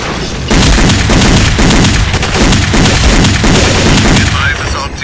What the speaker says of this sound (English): We are taking fire from the tunnel.